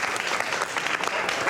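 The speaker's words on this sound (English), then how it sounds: "I'll give you a clap now because" Applause in a portrait painting contest studio: a group of people claps steadily and fairly close throughout, with no pauses.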